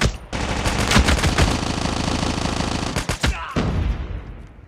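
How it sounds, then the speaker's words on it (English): AK-47 automatic gunfire in the mobile shooter Call of Duty Mobile rattles in loud, rapid sustained bursts with a short break near the end of the burst. "This guy has an AK-47, Xander."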